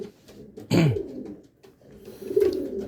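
Racing pigeons, about eight months old, coo in a loft, with one strong close coo burst early and softer cooing later, no talking.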